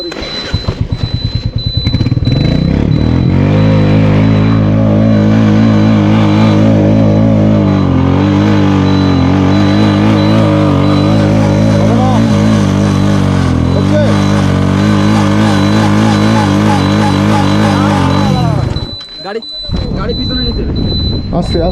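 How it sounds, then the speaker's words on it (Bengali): A motorbike engine on a steep mountain road roars at high revs almost continuously while the rear wheel slips, with people shouting and talking over the strained drone until it cuts off near the end. "পেঁচুর চাকা সে ইয়ের মতন স্লিপ খাচ্ছে"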